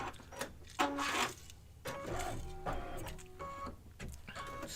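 An embroidery machine stitches an in-the-hoop coaster, giving a steady mechanical whir with repeated rhythmic bursts of needle motion, moderately close and quiet, with no talk over it.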